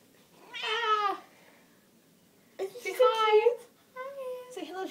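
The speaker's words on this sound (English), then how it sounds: "Would you like to meet Mollie's cat?" A cat meows loudly and close by, two drawn-out meows with a pause between, then a shorter third call.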